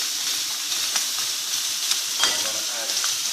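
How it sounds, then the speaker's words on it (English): Raspberry beer poured into a pot of braising beef ribs with pepper, a close, continuous sizzle and bubbling hiss with a few sharper pops, and no voices. "I'm going to hit this raspberry beer now, and just let it start to come up"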